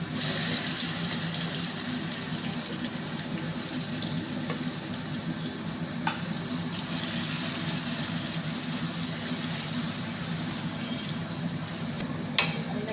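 Raw banana fingers frying in hot oil, a steady continuous sizzle and bubbling throughout, with a couple of faint clinks near the end and no speech.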